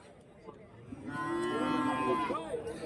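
A cow at a cattle market in Krishnagiri district, with HF and Jersey cows, gives a long, loud, drawn-out moo close by, over faint background noise.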